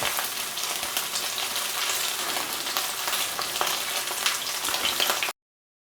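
A cheap, tough steak that has been velveted fries in a hot pan with a dense, steady crackling sizzle, loud and close, ending abruptly in silence.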